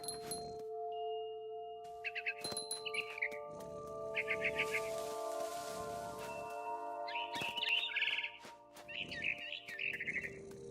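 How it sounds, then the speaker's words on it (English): A barn swallow in What Remains of Edith Finch chirps in repeated short bursts of quick twitters over a steady ambient game drone with soft background rustling. "Then I heard chirping outside my window. It was a barn swallow going back to her nest."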